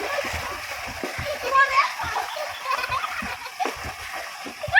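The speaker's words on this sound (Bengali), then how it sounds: "দেখতে পাচ্ছি বন্ধুরা সাঁতার প্রতিযোগিতা চলছে এখানে" Water splashes repeatedly in quick bursts during an outdoor swimming race, mixed with children's voices and close talk over the churning.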